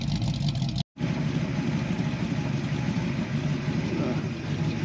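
A warmed-up 1966 Mustang GT engine idles nearby with a steady, loud rumble that continues unbroken after a brief cut near the start.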